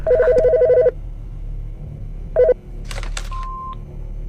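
A telephone in the Autopsy Simulator game rings with an electronic two-tone trill, a long burst then a short one, followed by clicks and a brief beep as it is answered.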